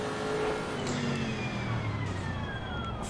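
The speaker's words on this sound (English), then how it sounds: "I just love the sound of this car as well." A 2019 GT racing car engine in the game Assetto Corsa Competizione at Paul Ricard drones steadily with a rising whine, loud and continuous, with no talking.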